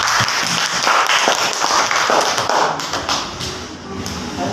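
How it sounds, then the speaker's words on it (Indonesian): Classroom applause for a student named Rena during an Indonesian teacher-training lesson, a dense, steady patter of many hands clapping throughout, fading slightly toward the end. "Kita beri aplaus untuk Rena."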